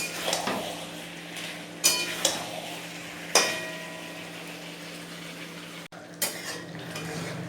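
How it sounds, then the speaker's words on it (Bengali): A spoon scrapes and knocks against a pot while stirring goat meat curry with potatoes, with several distinct metallic clinks over a faint background and no speech. "ভালো করে নেড়ে নেই কষাতে থাকি"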